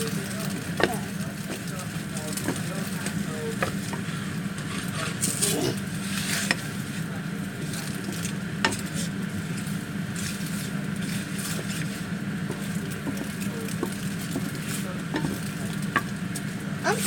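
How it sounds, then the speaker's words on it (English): Eggs being scrambled in a pan with a wooden spatula: a steady frying sizzle with soft scraping and stirring strokes throughout, fairly close and even, with no clear talk. "I'm scrambling my eggs."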